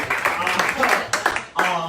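A small piano bar audience gives a few scattered claps, with a voice talking over and between the short bursts.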